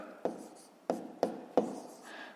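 Pen or marker strokes on paper or a board while numbers are written out by hand for a 5th-grade decimal multiplication exercise, four sharp taps followed by scratchy scribbling, close and fairly quiet.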